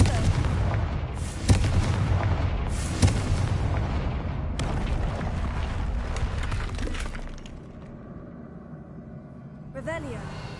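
Fiery spell blasts from the Hogwarts Legacy video game, loud booming impacts with sharp cracks recurring through a dense, busy battle mix, followed by a quieter magical shimmer near the end while a voice speaks.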